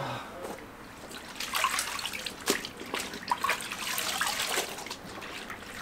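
Water splashes and trickles in an intermittent, uneven rhythm as laundry is washed by hand in sun-warmed water outdoors, fairly close and moderately loud, with no talking.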